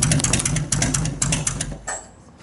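A 1998 Harley-Davidson Heritage Springer, a 95th anniversary FLSTS model, runs close by with a loud, loping engine rumble and a rapid, uneven pulse that pushes through continuously.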